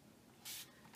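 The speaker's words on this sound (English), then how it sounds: "I'm going to spray it" Two quick hissing bursts from a Tattered Angels patina spray bottle, close and crisp, separated by a brief pause in an otherwise quiet room.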